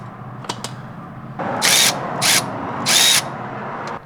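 A power tool cracks loose a 10 mm bolt during Honda Civic Type R maintenance after a track day, with a few faint clicks followed by three loud, close bursts of whirring and ratcheting over a motor hum.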